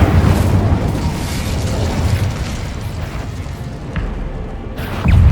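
The Incendio fire spell is cast in a Harry Potter video game, giving a sustained, loud roaring burst of fiery noise that fills the clip, with a fresh surge near the end.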